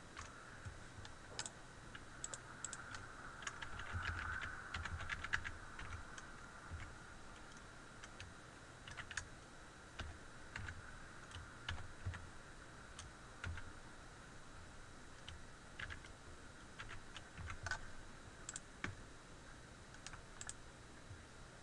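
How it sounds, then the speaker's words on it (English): A password being typed on a computer keyboard: a quiet, irregular run of light key clicks with short pauses, steady and close, over faint background hum. "So I'm just going to enter my password now."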